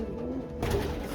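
Racing pigeons coo softly in their loft, a low murmuring call over a steady background hum, near and fairly quiet.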